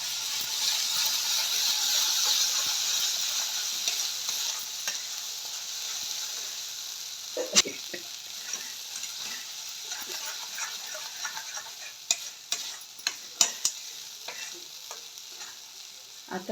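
Hyderabadi chicken masala sautéing in oil in a pan, giving a continuous bright sizzle and hiss. Scattered spoon clicks and stirring scrapes grow more frequent in the second half.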